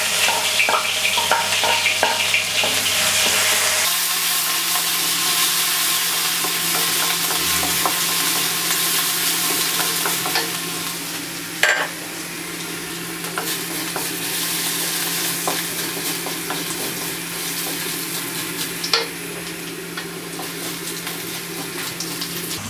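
Chopped garlic frying in desi ghee, a continuous close sizzle after an initial louder burst, with light scraping and a couple of brief clanks from a utensil.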